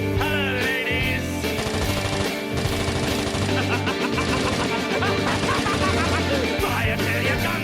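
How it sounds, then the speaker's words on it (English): Dense sound-effect barrage of gunfire and explosions on a themed radio broadcast: rapid machine-gun rattles, crashes and booms layered into a loud, continuous wall of noise with no pauses. "Gunfire and explosions, that's our cue."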